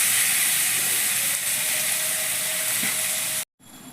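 Chopped onions fry in oil in a pan for chicken curry, giving a continuous close hissing sizzle that cuts off abruptly near the end, then resumes faintly.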